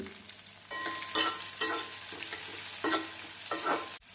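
Chopped onions sizzle in a hot pan with green chilies, curry leaves and ginger while a spoon stirs and scrapes, with steady frying under repeated close stirring strokes.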